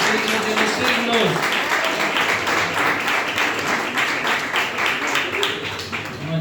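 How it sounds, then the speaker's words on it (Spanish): A church congregation gives a loud, sustained round of applause, with a few raised voices cheering at the start and thick, continuous clapping that stays strong before thinning slightly at the end. "¿qué tal si le da un fuerte aplauso al que vive y reina por los siglos de los siglos?"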